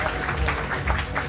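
Audience applause for a cosplayer on stage at the Poniconi 2023 cosplay contest, a short burst of steady clapping from a crowd, fairly loud throughout.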